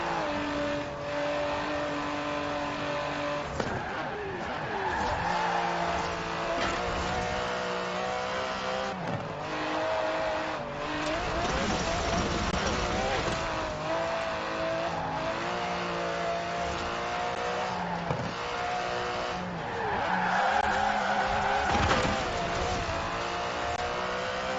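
An Aston Martin DB11 driven in the video game Forza Horizon 4, its engine revving and shifting through gears with rising and falling pitch, occasional tire squeal, loud and continuous throughout.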